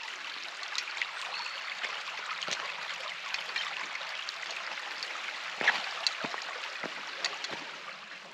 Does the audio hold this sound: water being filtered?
yes